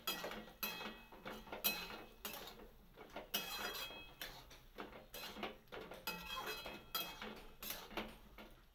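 Metal spoon stirring turmeric and salt in a pan while cooking lote fish shukto, giving repeated close scraping and clinking strokes in an irregular rhythm with no talk.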